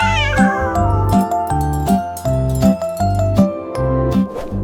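A cat meows in a drawn-out, falling cry near the start, set against bright, bouncy music of a French children's nursery song with a steady plucked rhythm.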